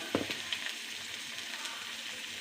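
Crushed shallots and red chillies dropped into hot oil for a raw banana stir-fry give a brief splash, then a soft, even sizzle that continues quietly on its own.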